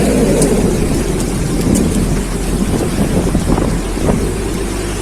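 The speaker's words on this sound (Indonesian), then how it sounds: "Grabe ang lakas ng ulan." Heavy tropical storm rain pours in a loud, dense continuous roar, mixed with gusting wind buffeting the microphone and a deep low rumble throughout.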